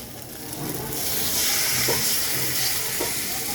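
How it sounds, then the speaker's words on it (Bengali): Water poured into a pan of frying cauliflower and potato curry, bringing up a loud, steady, hissing sizzle that swells and holds, with a couple of faint utensil knocks, close by and without speech. "এখন আমি দিয়ে দেব ঝোলের জন্য জল"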